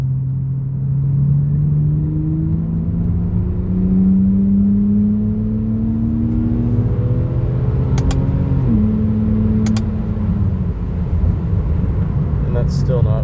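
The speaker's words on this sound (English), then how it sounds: "Okay, I'll do a third gear pull." A tuned BMW 325i pulls hard through third gear, its engine drone rising steadily in pitch with a brief dip at a shift-like break, heard from inside the car with a voice over it.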